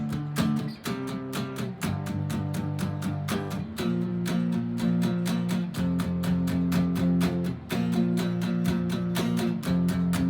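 Chugging distorted guitar power chords struck in a steady, driving stream of downstrokes, shifting between a few chord positions in a repeating loop.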